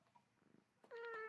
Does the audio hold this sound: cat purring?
yes